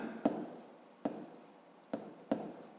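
Pen writing on paper during a fifth-grade math lesson, four short scratchy strokes with pauses between, close and quiet, no talk.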